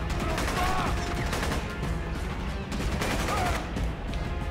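Gunfire from the video game Rogue Warrior comes in dense, rapid bursts that fill the whole clip at a steady, fairly loud level, with little pause between shots.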